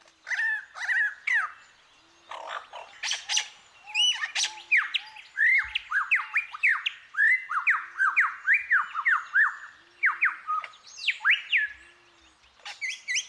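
A single Australian mimic bird pours out a rapid string of varied squawks, chirps and whistles, merging many different calls one after another, close and loud with brief pauses.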